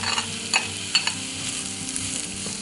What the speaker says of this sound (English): Once the oil is hot, I'm going to put in my sliced onions